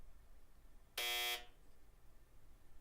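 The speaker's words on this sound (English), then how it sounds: "That is Steve on the buzzer." A quiz buzzer sounds once during a Black Desert anniversary livestream game show, a single loud, harsh electronic tone lasting under half a second against a quiet backdrop.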